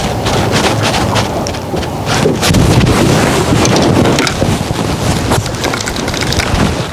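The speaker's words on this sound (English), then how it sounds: "The wind is picking up something fierce out here." Strong, steady wind buffets the microphone out on a lake during evening crappie fishing, a loud roaring rush with gusty swells and no speech.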